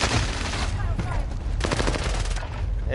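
Gunfire in the video game Warzone, a dense burst of rapid shots and loud reports filling the whole stretch, with some chatter underneath.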